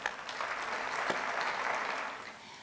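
An audience applauds steadily for close to three seconds at a talk on compassionate care, the clapping dense and even throughout and tapering slightly at the end.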